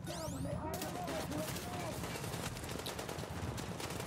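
Rapid gunfire rattles through a firefight in Tom Clancy's The Division on Xbox One. Dense bursts of shots roll on throughout, moderately loud and steady, with a brief electronic whine at the start.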